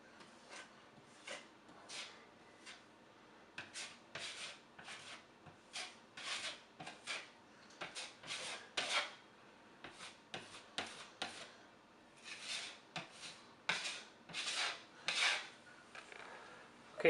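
Spackle on a closet wall being sanded by hand in a renovated master bedroom closet, heard as a steady run of short, rasping strokes in uneven bursts, close and moderately loud, with no voices.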